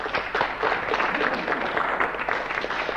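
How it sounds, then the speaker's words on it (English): An audience applauds guests at a live radio broadcast in Rathkeale, County Limerick, a steady wash of many hands clapping together, close and fairly loud, holding evenly throughout. "Let's hear a nice round of applause for Veronica and Noel White."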